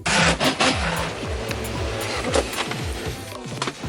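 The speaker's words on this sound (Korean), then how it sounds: "야크모노가 소리가 엄청나게 큽니다." A loud pachinko machine churns with constant rattling and heavy low vibration, while sliding electronic tones rise and fall over the clatter.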